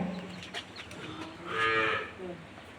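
A Friesian dairy cow, two to four teeth old and giving about 15 litres of milk, lets out a single loud, close moo midway through, with quieter barn noise around it and no talk.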